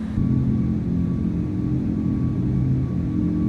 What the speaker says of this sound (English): I mean, the engine sounds are nice.